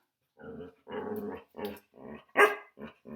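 A dog makes a series of low, rumbling, contented growl-like vocalizations while being petted, in short bursts, close and fairly loud, with brief pauses between them.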